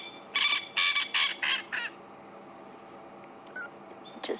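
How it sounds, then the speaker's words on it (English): Male Coqui francolin calling, a loud near series of four or five harsh rhythmic notes that slow and fade, followed by quieter distant replies against a faint background. "you can hear the response from another male Coqui a bit further away"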